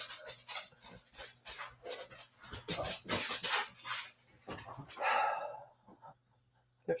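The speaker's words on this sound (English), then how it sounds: "The dog, the big one, wants to eat. He's a Great Dane." A Great Dane whimpering and giving soft yips in a series of short, uneven bursts, fairly faint and close, with brief quiet gaps between them.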